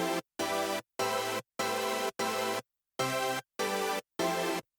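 A layered synth chord stack with a piano layer blended in, struck as eight evenly spaced sustained chords with hard, punchy attacks, each cut off by a brief silence, loud and alone.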